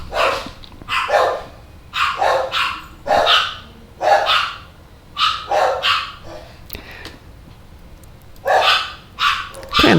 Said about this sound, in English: they wait till I'm sitting in here to go bark at other dogs